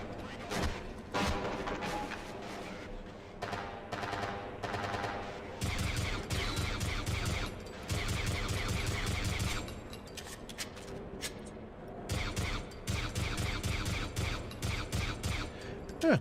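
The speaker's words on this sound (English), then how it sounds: "these suppressed pistols actually do work against the soldiers when they're not aware of you" Suppressed pistol shots fired at soldiers in the video game Half-Life, a rapid series of gunfire bursts repeating in clusters over a continuous music backdrop, with a voice talking at times.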